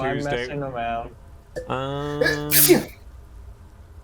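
One sharp sneeze bursts out close to the mic between stretches of speech and humming.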